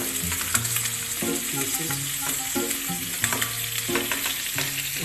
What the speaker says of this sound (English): I'll go ahead and stir the macaroni